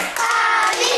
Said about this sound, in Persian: دوتا تشویق کنیم